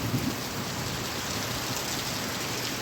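Torrential unseasonal monsoon rain lashes down in Konkan with a low rumble of thunder near the start, the downpour holding a constant loud hiss throughout and nobody speaking.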